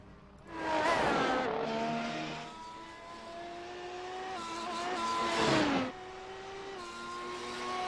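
F1 race cars circle Monza in a racing video game, their engines whining loudly as they rise and fall through gear changes. Pitch swoops mark cars passing close by, with no one talking.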